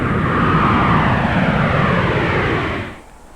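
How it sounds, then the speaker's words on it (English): A jet aircraft taking off roars loudly as a broad, powerful engine rush that holds steady for a few seconds, then fades away at the end, with no talk. "A jet aircraft taking off produces around 135 to 150 dB."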